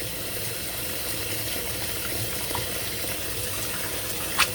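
A tap runs steadily while dyed camel and silk fiber is rinsed, giving a constant hiss of flowing water at moderate level with one brief clink near the end.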